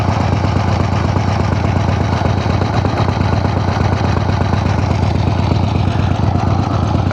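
A 1975 Harley Davidson XLCH motorcycle fitted with a Chinese Super E carburetor runs steadily and loudly up close, its engine giving a continuous, uneven throbbing rumble with no pauses and no voices.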